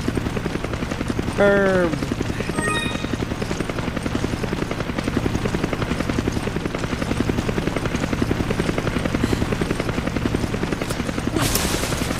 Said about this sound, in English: That helicopter is such a comforting sound.